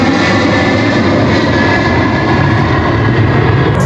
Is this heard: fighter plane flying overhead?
yes